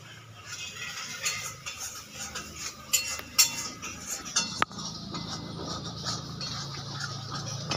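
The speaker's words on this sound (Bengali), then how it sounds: "মায়ের মশলা কষাচ্ছে" Mutton and spices being stirred and sautéed in a pan in a home kitchen, with steady clinks and scrapes of a metal spoon against the pan over a constant low hiss, one sharp knock partway through.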